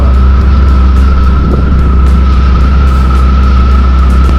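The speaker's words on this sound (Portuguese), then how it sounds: "Tá indo no Tiger! 955, só a primeira vez! 3 cilindros!" A Triumph Tiger 955 three-cylinder motorcycle engine drones steadily and loudly, with a strong low hum and a sustained mid tone, like riding at constant speed with wind rush and no talking.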